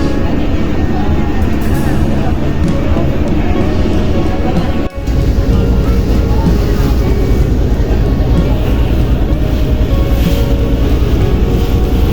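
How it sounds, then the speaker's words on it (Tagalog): A steady, loud low ferry engine rumble runs throughout, heard from the back of the boat in Hong Kong harbour, with wind and water noise on top and a brief dropout midway; voices murmur faintly underneath. "Nangingay ng makina."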